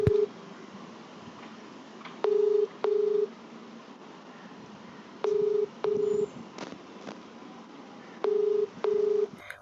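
Short steady telephone tones in evenly spaced pairs, like an outgoing call ringing, over a low hiss with no talking.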